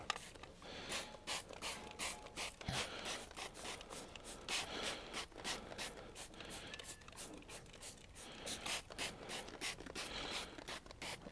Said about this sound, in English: I need to spray them both at the same time